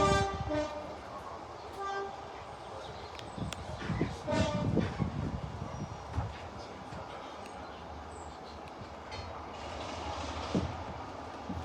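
A heritage Swanage Railway train pulls out of Norden station during a diesel gala, heard from aboard with a horn sounding early, engine rumble and rolling wheel noise building and continuing steadily.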